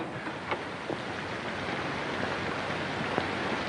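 Rain falls steadily outside in a 1947 crime noir film, a soft continuous hiss with a few faint sharper drips or knocks, fairly distant and with no talk.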